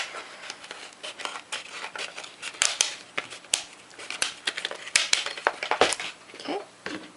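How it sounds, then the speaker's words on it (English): Scissors cutting plastic for fursuit eyes: close, irregular crisp snips and crunchy cracks, sometimes in quick bursts with short pauses between. "I'm going to take a smaller pair of scissors and get in a little bit closer."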